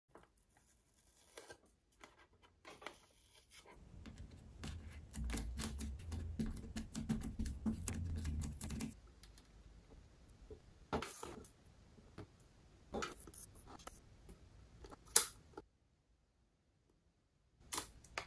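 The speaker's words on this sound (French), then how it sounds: "Je vais faire quelques tours de scotch pour verrouiller les plaques entre elles." Adhesive tape being wound in several turns around stacked plates, heard close up as a run of crackling, tearing strips and snaps, with quiet gaps between bursts and no talking.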